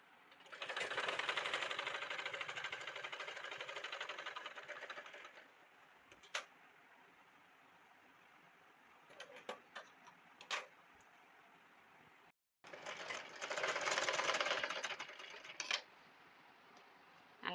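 A sewing machine stitching frock fabric runs in two bursts of rapid, steady whirring, separated by quieter pauses with scattered clicks and handling noises; nobody speaks.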